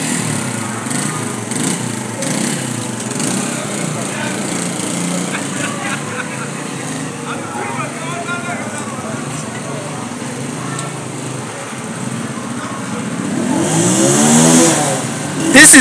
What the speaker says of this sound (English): Inside is a Senke motorcycle, but outside is a complete plane.